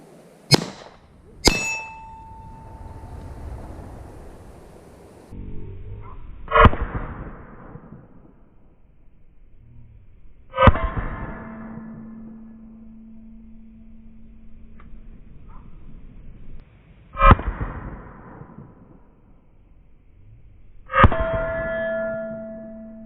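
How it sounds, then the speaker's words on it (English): Ruger LCP Max pistol shots strike steel targets: about six sharp reports, each followed by a ringing metallic clang that decays slowly, spaced several seconds apart, with no talking. "So you've seen me shoot steel."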